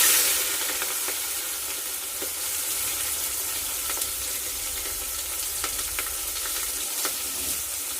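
Continuous loud sizzle of onions and green chillies frying in oil for a country chicken curry, with occasional faint stirring clicks.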